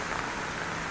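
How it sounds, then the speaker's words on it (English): Steady rain falling on a wet street in Taiwan, a dense, even hiss of drops spattering on pavement with no voices. "you can just see it's just wet and raining, always."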